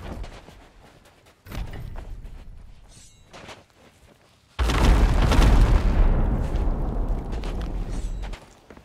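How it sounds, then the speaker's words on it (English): Gunpowder kegs blowing up in Sea of Thieves during a ship battle in the Devil's Roar: two heavy booming blasts, a smaller one early and a bigger, rumbling one midway that rolls on for several seconds. "Blowing kegs right now."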